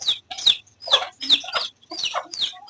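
A hen and a rooster cluck close by in a run of about seven short, bright calls with brief gaps between them, set against a quiet background.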